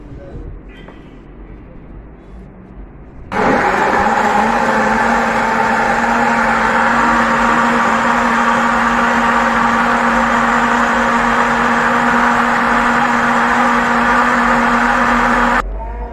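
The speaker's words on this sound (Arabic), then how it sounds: "ونضرب الخلاط" A blender blending strawberries whirs to life suddenly and runs at a steady, loud, droning pitch for a long stretch before cutting off.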